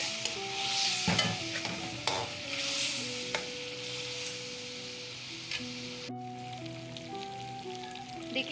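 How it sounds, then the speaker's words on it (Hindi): Afghani chicken karahi fries in a pan with four slit green chilies added, giving a constant sizzle with scraping stirs and clacks of a spoon, while a faint melody plays softly underneath. "इसके साथ अब हम इसको अच्छे से फ्राई करेंगे और साथ ही इसमें हम 4 अदद हरी मिर्चें डाल देंगे।"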